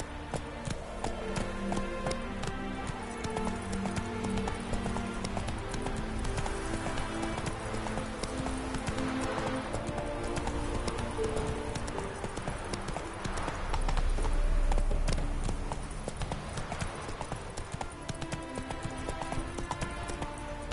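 A horse galloping in a video game, its rapid rhythmic hoofbeats steady and loud over layered game music and ambient effects, with a brief swell midway.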